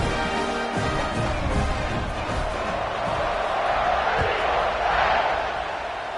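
A college football stadium crowd against Auburn roars steadily before a kickoff, a broad wash of cheering and shouting that swells slightly, with a commentator talking over it.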